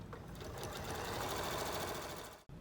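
A sewing machine runs continuously at a steady, fast stitching rhythm, sewing binding onto a quilt, close and clear, then briefly stops at the end.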